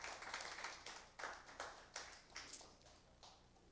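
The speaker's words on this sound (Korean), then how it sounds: "자, 고생했다고 여러분 다시 한번 격려의 박수 해주세요" A small high-school church youth group gives scattered, faint applause of encouragement: a handful of separate claps in an uneven rhythm that thin out at the end.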